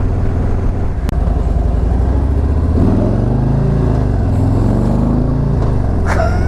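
A 2017 Harley-Davidson Milwaukee-Eight motorcycle on a stock motor accelerating hard, a loud, close, deep rumbling engine with rising revs through gear changes, steady and dominant throughout.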